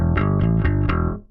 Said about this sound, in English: It's a clean tone.